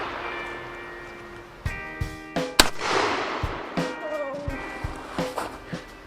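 A youth-sized Mossberg Bantam 20 gauge shotgun fires once outdoors: a single sharp, loud blast with a quick decaying boom, set among scattered fainter pops and clicks at a range.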